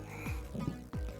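A frog croak for a poison dart frog card in the MTG Arena video game, two short descending croaks, fairly quiet, alone against faint game ambience.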